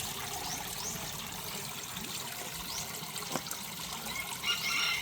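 Water flowing and trickling nearby in a continuous, moderately quiet stream with faint splashes, rising slightly toward the end, and no talking.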